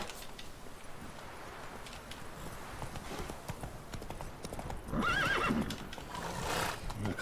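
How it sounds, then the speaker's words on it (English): Horse in a video game clip-clopping steadily with its hooves, followed by a loud whinny midway, with game ambience and faint talk underneath. "El caballo va fatal en este juego, pero fatal."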